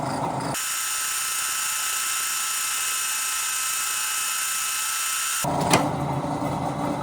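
A keyway is machined into a Colt crankshaft, giving a loud, continuous high whine with a steady hiss. The tone shifts briefly at the start and again near the end.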